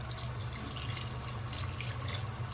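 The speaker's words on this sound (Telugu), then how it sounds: "మనం కొద్దిగానే వాటర్ వేసుకోవాలి" Water pours into a pot of mutton curry with coriander and mint, a continuous splashing trickle that stays soft and steady throughout.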